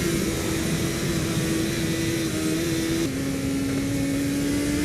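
Sport motorcycle engine, an SRAD or ZX-7R, held at high revs on a damp track, a loud, steady close-up drone whose pitch shifts slightly with gear and throttle changes throughout.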